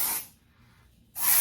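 A can of hair spray, shaken and held at a distance from the hair, releases two close, loud hissing bursts separated by a short pause.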